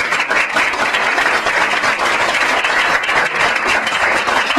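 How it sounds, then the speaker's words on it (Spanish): Sustained applause from an audience honoring a speaker named Alberto at the close of a chamber event, steady dense clapping filling the whole stretch with no voices over it. "yo les pediré un aplauso para Alberto"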